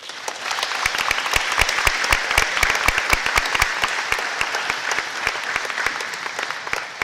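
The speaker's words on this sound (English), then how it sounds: "And now we can applaud our 5th grade" An audience at a middle school academic awards assembly claps for the fifth grade students, a continuous burst of many hands with sharp individual claps standing out near the front.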